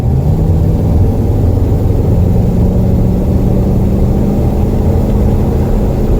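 A 1973 Mercury Cougar XR7 with an unmodified 351 Cleveland V8 accelerating hard from about 35 mph, a loud, steady, low engine roar heard from inside the car, with no talk.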